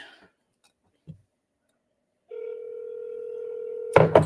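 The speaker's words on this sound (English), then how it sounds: "let's see if they pick up the phone" A single ring tone of an outgoing telephone call sounds as a steady, moderately loud tone for a couple of seconds, preceded by quiet clicks and followed by a sharper burst as the line connects.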